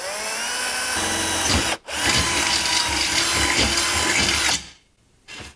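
Close, loud power drilling through metal while building a used oil burner, with a continuous whine broken by a brief pause, then cutting off near the end.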